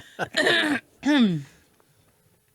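A single harsh throat-clearing cough, followed by a short gravelly clearing sound, close up, then near silence.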